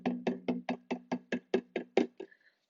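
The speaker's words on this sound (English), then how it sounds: "Now you try hitting a drum." A small drum struck by hand about ten times in an even, quick rhythm, each hit a close, clear thump with a short ringing tone, the last stroke fading into a brief hum.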